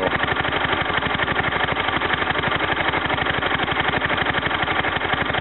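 A Kohler K241 small single-cylinder engine, freshly tuned up with a new head gasket, runs steadily up close with a fast, even thumping exhaust beat and no talking.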